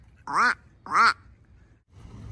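A person imitates a duck, giving two loud, nasal quacks in quick succession, each about a quarter second long, followed by quiet ambient noise outdoors along the Venice canals in Los Angeles.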